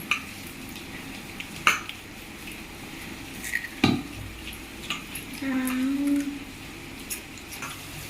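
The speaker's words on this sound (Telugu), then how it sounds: "ముందుగా ఆనియన్స్ ఇందులో వేసుకొని మిక్స్ చేయాలి, కలుపుకోవాలి." Chopped onions are mixed by hand into mirapakaya bajji batter in a bowl, with wet, sticky stirring and scattered clicks of a utensil against the bowl, close and fairly quiet.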